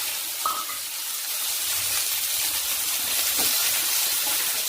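Onions, fennel seeds and dried red chillies frying in hot oil in a pan, a steady close hissing sizzle throughout with a few faint stirring knocks.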